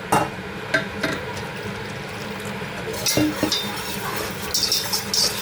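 A whisk scrapes and clinks steadily against a metal saucepan while making blanquette de veau, close by, with continuous rustling motion and occasional sharper taps.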